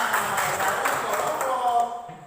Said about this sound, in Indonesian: Sekali lagi tepuk tangan untuk Sina.